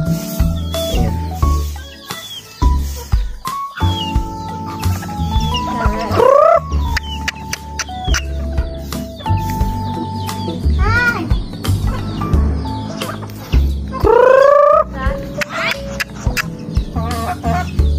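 Native chickens cluck and cackle loudly and nearby in an ongoing, overlapping jumble, with rising squawks now and then and a busy backyard flock filling the whole stretch.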